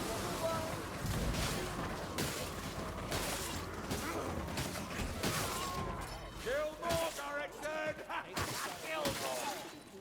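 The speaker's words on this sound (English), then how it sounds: "I reckon it's a fire rat. The warp fire thrower." A Skaven warpfire thrower in Warhammer: Vermintide 2 blasts out a loud, continuous roar amid crashing combat noise, with people talking over the din.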